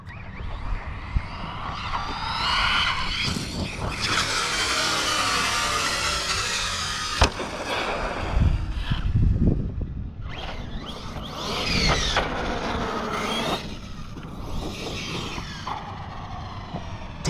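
Arrma Kraton V5 radio-controlled basher car driving outdoors, a loud continuous motor whine and rushing noise with surges and bursts across the whole stretch, no talking.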